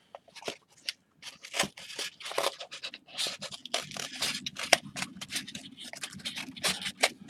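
Scissors cutting out a paper template for a small orc hut model, close, quiet snips and scratchy paper rustles arriving in irregular bursts, with no talking.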